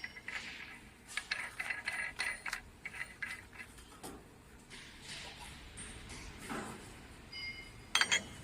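Screws being tightened to fix a mold holder onto the barrel end of a twin screw extruder: quiet metallic ratcheting clicks come in quick bursts, with faint handling knocks and a sharp clink near the end.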